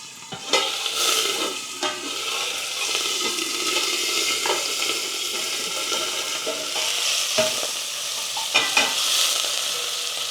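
Green chilies, curry leaves and ginger frying in oil over a low gas flame, a steady soft sizzle with occasional stirring clatter and spoon scrapes, close and without talk.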